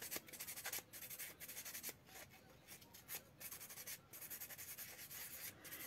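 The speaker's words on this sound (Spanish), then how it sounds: "Vamos a lijar las impurezas." Steady hand sanding to smooth away rough spots on a small craft piece, a soft scratchy rubbing in quick repeated strokes, close and quiet with brief pauses between passes.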